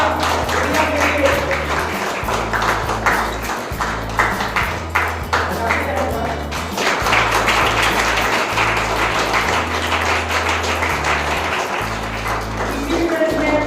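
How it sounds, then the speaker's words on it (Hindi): At a school sports and culture felicitation ceremony, the audience gives a student loud applause. Rhythmic background music with a thumping bass plays underneath the steady clapping, and a voice can be heard through it. "जोरदार तालियां गुड़िया के लिए"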